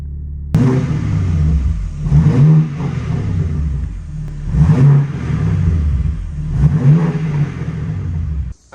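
A BMW M4 (G82) engine revs repeatedly while reversing into a garage, with low, rumbling blips rising and falling in several distinct pulses over a steady idle, ending abruptly.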